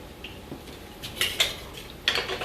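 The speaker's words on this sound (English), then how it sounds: "Now first I'm going to add my peppers and onions." Peppers and onions dropped into a pan, giving a few brief clinks and scrapes of utensil against cookware, fairly close and without talk.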